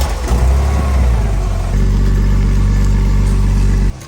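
A Porsche 986 Boxster flat-six cranks and fires up, then settles into a loud, steady idle with a lean bank and an exhaust leak, heard up close with no talking.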